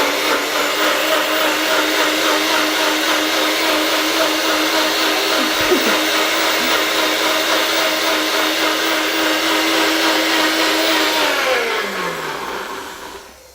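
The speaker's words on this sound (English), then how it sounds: "I'm going to pop it on the NutriBullet, it's going to be a bit noisy." A NutriBullet blender blends a spinach smoothie with a loud, steady whirring roar that holds for about eleven seconds. Its pitch then sags and the motor winds down as it is switched off.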